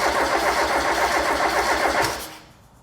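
A Caterham 7 engine, older car with choke applied and a slowing fuel pump, being cranked over by the starter: a steady, loud, rhythmic churning that fails to catch and cuts off near the end.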